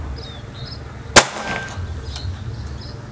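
A Predator Bocap Phantom Black Army 500 cc PCP air rifle fires a single shot at a target. The one sharp, close crack is followed by a brief ring in an otherwise quiet outdoor setting.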